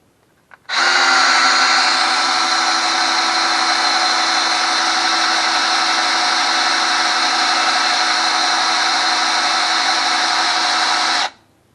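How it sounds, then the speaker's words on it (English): A power drill run in reverse to prime the engine oil pump of a 1964 Ford F350 dump truck whirs steadily at high speed for about ten seconds, loud and close, starting and stopping abruptly with no talking. "I'm just gonna run the drill in reverse"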